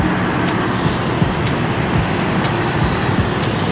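Dense city traffic rumbles around the Hotel Indonesia roundabout in Jakarta, a constant roar of engines with scattered sharper bursts and passing vehicles, loud and close with no voices.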